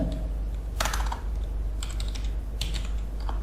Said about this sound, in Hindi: इसके लिए हमें टाइप करना है कॉन्फ़िगर